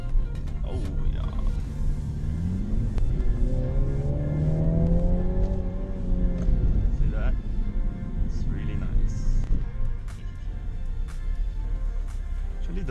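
A 2020 Mini Cooper Clubman JCW engine pulls hard, its note climbing steadily through the revs over several seconds before easing off, loud and continuous inside the cabin with road noise underneath.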